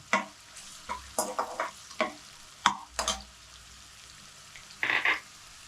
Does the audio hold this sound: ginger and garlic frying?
yes